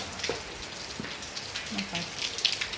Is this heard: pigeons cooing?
no